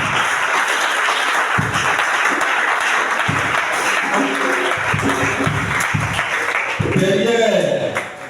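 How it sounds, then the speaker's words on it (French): Church congregation applauding to acclaim the Lord: sustained crowd clapping as a steady dense wash throughout, with voices and a speaker talking over it, loud and close. "Nous allons acclamer le Seigneur."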